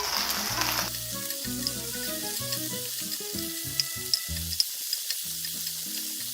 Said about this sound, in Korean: 꽈리고추에 식용유가 입혀지면 여기에 부재료로 마늘을 반 큰술, 설탕 반 큰술을 넣고 같이 한번 익혀주듯 볶겠습니다